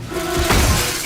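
Glass shatters in an animated cartoon, one loud close crash with a brief burst of breaking debris and a quick ringing tail, no speech over it.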